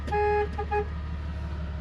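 A car horn on a winter trail gives one sustained honk followed by two short toots, loud and close over a steady low engine rumble.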